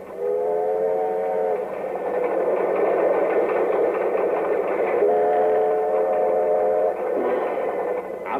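Train standing at a station, a steady rumbling hum with a long two-tone horn or whistle sounding twice, loud and close throughout.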